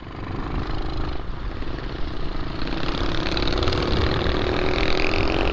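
A mini motorcycle on a trail ride runs with a steady, buzzing engine drone that builds slightly in loudness and pitch over a few seconds, close by with rough outdoor noise.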